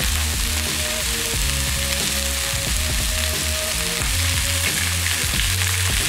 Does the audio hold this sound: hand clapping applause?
no